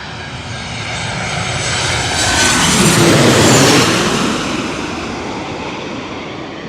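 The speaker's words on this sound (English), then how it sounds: "A Boeing 737-800 from Chicago, ORD." A Boeing 737-800 airliner from Chicago passes overhead in Queens, its jet engines a loud broadband roar that swells to a peak mid-pass and then slowly fades, with no talk.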